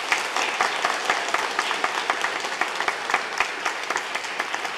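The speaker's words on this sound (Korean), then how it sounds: "성도 여러분께서는 박수로 환영해 주시기 바랍니다" A church congregation at a Sunday service claps in welcome for newly baptized members, a steady, full round of many hands with distinct sharper claps standing out, continuing evenly for several seconds.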